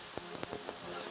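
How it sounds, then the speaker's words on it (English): Steady rain falls at an outdoor archery World Cup compound team final in Shanghai, a dense hiss with scattered sharper drops tapping on surfaces, close and continuous. "come out in the rain"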